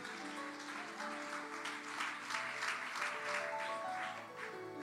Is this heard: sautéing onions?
no